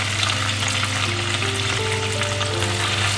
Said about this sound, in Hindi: हमें प्याज को धीमी आंच पर भूनना है